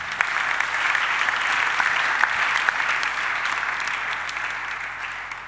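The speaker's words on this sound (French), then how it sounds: "Acclamez pour vous-même." A church congregation applauds during a French-language worship service, steady dense clapping sustained throughout at moderate distance, filling the room without talk.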